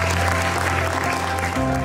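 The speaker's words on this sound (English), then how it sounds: "So big round of applause for you." An audience at an onsite programming championship final applauds, a dense sustained wash of clapping that stays loud and even over the short span, with a musical tone entering under it near the end.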